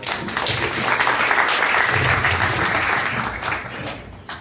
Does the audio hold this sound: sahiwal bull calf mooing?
no